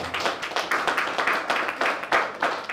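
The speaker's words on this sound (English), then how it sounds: "A round of applause for this man." Steady clapping from a crowd at an event honouring a chairman, a dense, even patter of hands sustained throughout at moderate loudness.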